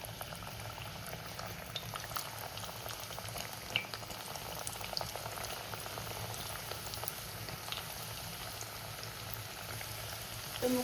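Plantain pieces cooking in boiling water over a low flame, a soft steady bubbling and simmer that stays faint and even throughout.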